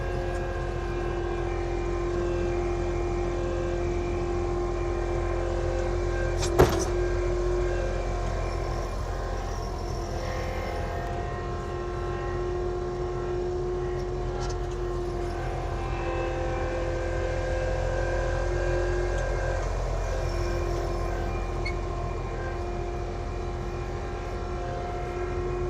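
Steady engine drone from an Avant compact loader dragging gravel on a construction site, a constant hum that is unchanging and moderately close, broken by one sharp knock partway through.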